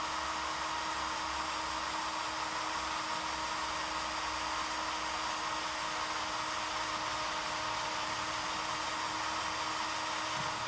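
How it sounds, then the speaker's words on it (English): A sharp drill boring a hole in a Tillotson carburettor part, giving a steady, faint, continuous whirring hum that runs unbroken throughout with no talking over it. "I've got a drill here today, so let's use that"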